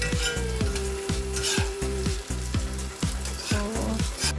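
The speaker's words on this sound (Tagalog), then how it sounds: "as in prito talaga siya. Diba, nakita niyo, prito." Egg noodles frying in plenty of oil in a pan, a steady loud sizzle with regular rhythmic clanks of a utensil stirring against the pan about twice a second, no talk.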